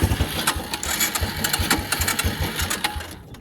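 A cheap used Suzuki ATV engine runs on a poorly fuelled carburetor, a close, loud, rapid uneven putter with irregular pulses that cuts out near the end.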